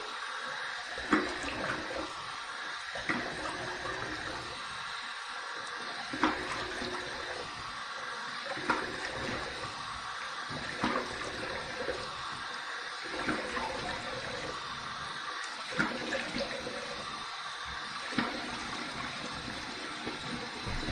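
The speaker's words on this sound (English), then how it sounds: "Here's my warm water rinse." Warm water runs steadily from a tap for rinsing after a shave with a Wilkinson Sword Classic safety razor, a continuous splashing gush with small irregular spatters, fairly close and alone without talk.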